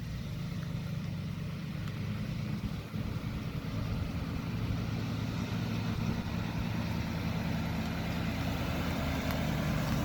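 An LS-swapped Squarebody rollback truck creeps up a driveway in creeper gear, its engine a steady low rumbling drone that stays close and even throughout, with no talk.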